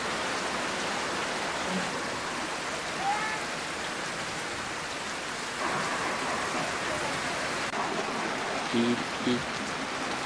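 Heavy rain pours down steadily outdoors, a dense continuous hiss with scattered drip and splash detail, loud and close, with a few faint voices briefly under it.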